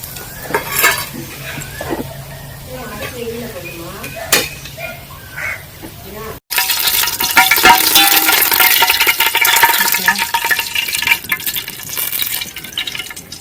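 Whole spices (bay leaf, cinnamon, cloves and stone flower) drop into hot oil for chicken dum biryani. A loud, close sizzle bursts in suddenly and keeps going after a quieter stretch of talking and clinking utensils.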